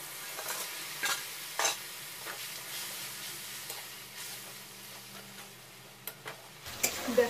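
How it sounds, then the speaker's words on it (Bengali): Spice paste of cumin, coriander and dried chilli being stirred and fried for a Bengali-style fish curry, a steady soft sizzle with occasional scraping stir strokes, close and alone. "দেখো মশলাটা ভালো করে কষানো হয়েছে"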